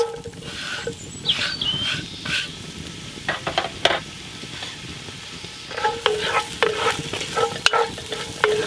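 Carrot and onion stirred and frying in rapeseed oil in a cast-iron Dutch oven over an open fire, a steady close sizzle broken by scraping stir strokes and utensil clinks.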